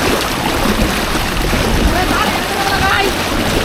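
Rushing typhoon floodwater surges in Occidental Mindoro, a dense, steady roar of fast-moving current filling the scene, loud and continuous.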